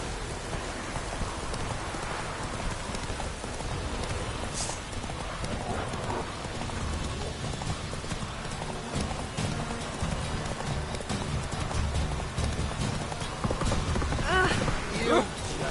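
Horse hooves clip-clop in a steady rhythm through rain in The Witcher 3, with rainfall pattering throughout, a brief whinny, and a voice speaking over the hoofbeats.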